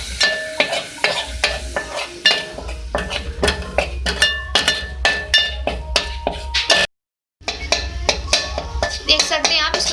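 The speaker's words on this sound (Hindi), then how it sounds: "देख सकते हैं आप, इसमें भून रही हूँ।" A spoon scrapes and clinks against a pan as flour is roasted in melted butter for white sauce, steady soft sizzling under a run of sharp regular stirring taps, with a brief silent gap near the end.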